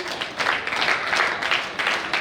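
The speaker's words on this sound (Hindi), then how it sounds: "तालियों की गड़गड़ाहट टूटनी तो चाहिए ही नहीं, इतना अच्छा परफॉर्मेंस दे रहे हैं कि रंगीत" Steady applause from a crowd, a continuous wash of clapping with slight swells, no voices standing out.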